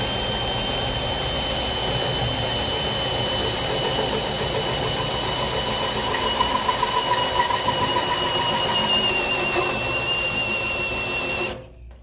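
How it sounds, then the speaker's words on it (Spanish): A hole saw drill bit cuts into a roofing sheet with a steady, high-pitched metallic whine and grinding drone that holds unbroken for about eleven seconds before abruptly stopping. "Vamos a empezar con la broca sierra."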